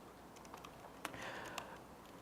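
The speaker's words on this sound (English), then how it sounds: "We're typing feverishly." Rapid typing on a computer keyboard at a developer conference, a faint, steady patter of key clicks with a few sharper taps, with no one speaking.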